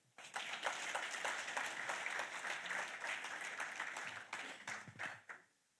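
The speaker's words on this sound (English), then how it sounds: "would like to give you a very well round of applause" An audience at a taxpayer appreciation awards ceremony in Swakopmund, Namibia breaks into a round of applause, many hands clapping in a dense, sustained wash that holds steady for about five seconds before thinning out and stopping.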